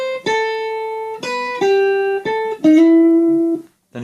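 Guitar playing a short melodic solo phrase, a handful of clean sustained notes ending with a slide into a held note, close and alone.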